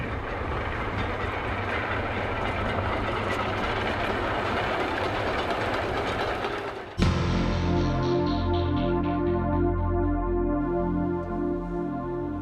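Alderney Railway train running with a four-car rake, a steady loud rumble of wheels and carriage that shifts abruptly into a rhythmic clickety-clack of rails with droning tones, no voices.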